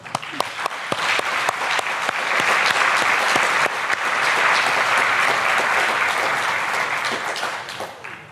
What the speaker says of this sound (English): I'm going to applaud them